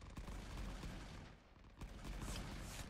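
Dense, continuous gunfire from rifles and machine guns in the trench-warfare video game Rising Front, with rapid overlapping shots and distant fusillades forming a loud, sustained barrage.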